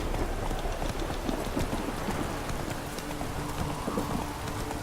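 Steady hoofbeats of a horse galloping in The Witcher 3 video game, a continuous fast clip-clop rhythm over a busy rain-like wash of background noise, moderately loud throughout with no pauses.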